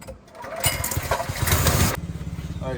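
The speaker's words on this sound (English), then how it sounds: "This is a gas pressure washer, by the way." Gas pressure washer engine starting up, with a pull and sputter that catches into a loud, close, rough running roar before dropping to a steadier lower idle.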